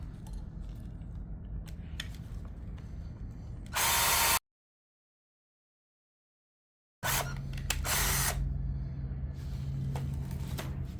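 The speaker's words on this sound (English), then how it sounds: "So now I need to drill these holes out so that this bolt will fit through it" A power drill whirs steadily and close, bursting into a louder high-pitched grind as the bit bites while drilling out rivet holes on a Z-Grill pellet grill, then stops; after a silent gap, drilling resumes.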